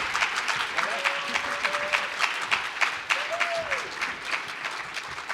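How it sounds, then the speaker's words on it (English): A room of guests at a community breakfast gives a round of applause, a steady wash of many hands clapping with a few sharper claps and faint tonal sounds that rise out of it. "A round of applause, please."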